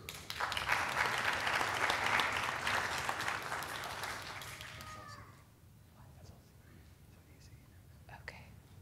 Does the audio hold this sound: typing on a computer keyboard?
no